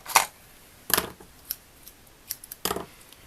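Scissors snip a length of metallic thread in several crisp, close cuts, two sharper snips followed by a few lighter clicks, with no talking, in a card-stitching craft setting.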